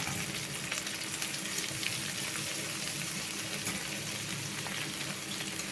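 Tomatoes sautéing in a pan for Maggi noodles, a steady close sizzle and crackle of frying with occasional stirring scrapes, continuous throughout with no talking.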